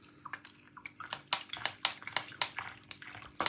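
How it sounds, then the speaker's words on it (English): Bottled water poured into a small blender jar, an uneven run of splashes and trickles, faint and close, with no talking. "we're gonna add some more water."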